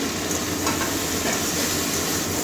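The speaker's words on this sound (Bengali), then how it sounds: "ভেজে রাখা সমস্ত সবজিগুলো একসঙ্গে দিয়ে দেবো।" Fried carrot, potato and vegetable pieces tossed together into hot oil for a bean chorchori, a loud, dense, continuous sizzle with stirring scrapes, close up and without talk.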